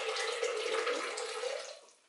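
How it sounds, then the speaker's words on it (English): Water pours steadily from a tap into a shake container for about two seconds, a close, continuous rushing stream that tapers off and fades at the end, with no talking. "Let's put the water in."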